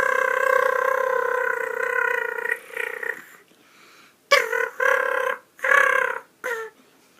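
A person blows a turkey mouth call, rolling the tongue to imitate a turkey's purr: a long, steady trilling tone, then several shorter choppy bursts, close and clear with no talking.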